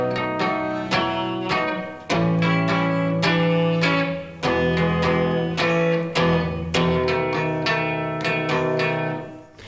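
Slow acoustic guitar intro to a song, played as a lesson demonstration: a steady series of plucked chords and single notes, each ringing out before the next, close and clear with no voice.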